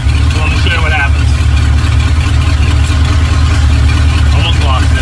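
A car engine with a 2-barrel carburetor idles steadily with a low, even rumble while its idle speed screw is turned. Someone talks over the engine throughout.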